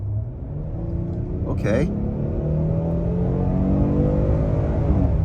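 A 2023 Hyundai Palisade Limited with a 3.8-litre V6 accelerates from inside the cabin, its engine note rising steadily in a smooth, building rumble, while a voice speaks briefly near the start.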